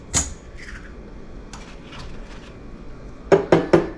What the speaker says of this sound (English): So I'm just going to crack 3 eggs.